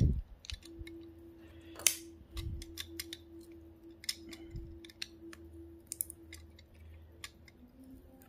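Metal snips cutting silver work scrap, a scattered series of sharp crisp snips and clicks, close and fairly quiet, with a faint steady hum underneath.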